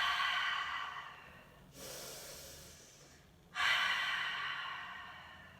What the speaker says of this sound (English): Let's take 3 more breaths here.